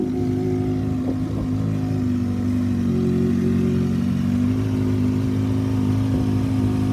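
A Kawasaki ZX6R motorcycle idles after a cold start, running without its aftermarket exhaust, a loud steady low engine drone with slight wavering in pitch and no speech.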